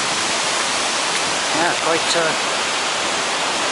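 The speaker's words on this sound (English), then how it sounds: "You can hear the sound of the tumbling stream" A steady wash of rushing water from a tumbling stream at Bontddu, Wales, fills the scene, loud and constant, with a brief voice rising faintly over it.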